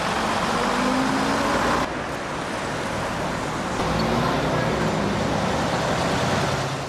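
A London Routemaster bus, RM 613, pulls up amid steady road traffic on a busy street, its engine rumble blending into continuous broadband traffic noise that stays loud and close throughout without any speech.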